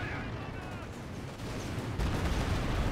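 Artillery shells land in a Company of Heroes 2 battle, making a dense, continuous rumble of distant blasts that swells louder toward the end. Faint talk may sit beneath it.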